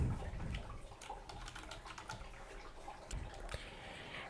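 Keys clack on a computer keyboard in quick, uneven bursts of soft clicks, close and quiet against a faint room hush.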